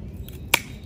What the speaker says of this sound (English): then you can go in with your hand loppers and prune the rest